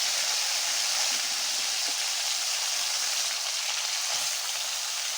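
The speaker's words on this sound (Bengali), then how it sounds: "আমি কড়াইতে তেল গরম করে মাছটা দিয়ে দিচ্ছি ভাজার জন্য" Small tengra fish frying in hot oil in a wok, a steady dense sizzle and crackle running the whole time at a moderate, even level with no talking.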